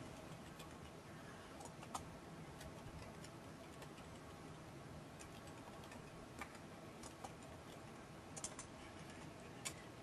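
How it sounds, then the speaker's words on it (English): Someone types on a computer keyboard, producing faint, quick, irregular key clicks over a quiet room hiss, with no voices during the passage. "I can't talk and type at the same time"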